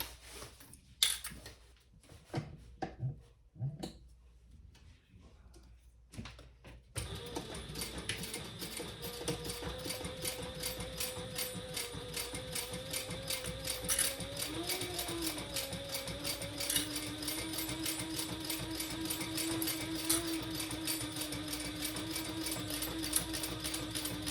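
After a few scattered handling knocks, a sewing machine runs steadily, top stitching a belt bag with a continuous, close mechanical whir and needle rattle that holds for most of the clip.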